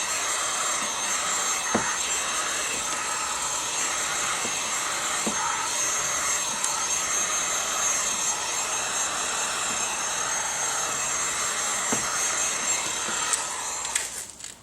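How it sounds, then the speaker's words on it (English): A heat gun blows hot air while window tint film is shrunk, giving a continuous loud airy whoosh with a steady whine that runs unbroken before cutting off abruptly at the end, with a few faint clicks and no talking. "hold the heat gun facing down, so you're pointing into the fingers"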